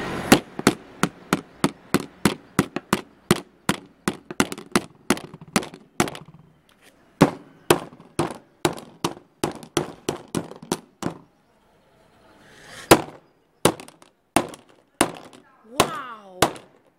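Hammer blows smash a Motorola C1001L cordless phone, a rapid run of sharp, loud impacts that pauses, resumes in slower irregular strikes, then ends with a few isolated hits and a brief cracking rattle.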